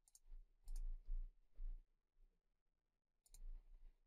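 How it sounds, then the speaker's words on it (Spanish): Computer mouse clicks while working in Fusion 360 CAD software, quiet crisp taps in small clusters including quick double-clicks, close up with pauses between. "Doble clic"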